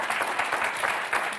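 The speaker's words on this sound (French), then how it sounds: "Applaudissements pour Alexandre et Kevin." A studio audience on the French game show Motus bursts into steady applause, a dense, continuous wash of clapping with slight swells, full and close throughout.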